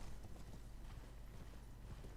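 Steady hoofbeats of a horse in the video game Elden Ring clip-clop at a walking pace over a low ambient hum, fairly quiet and continuous throughout.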